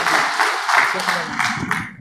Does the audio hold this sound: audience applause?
yes